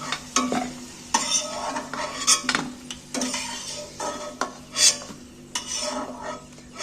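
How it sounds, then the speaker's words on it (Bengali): Fried potatoes stirred and lifted from hot oil, a series of distinct metal scrapes and clinks of a utensil against the pan at irregular intervals over a faint background hiss. "আলুগুলো লাল লাল করে ভেজে ভেজে নিয়েছি এইবার আমি আলুগুলোকে তেল থেকে তুলে নিচ্ছি"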